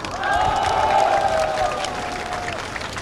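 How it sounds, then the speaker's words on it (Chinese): Crowd at an outdoor rally on Ketagalan Boulevard in the summer sun, applauding and cheering together in a dense, steady wash of clapping that rises and then gradually thins. "我们是不是先给自己和他们一个热烈的掌声"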